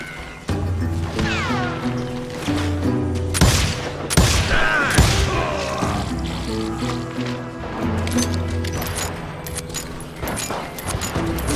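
Gunfire from the Western shooter Call of Juarez Gunslinger, a sharp crack near the middle followed by further sporadic blasts and clatter over steady game music.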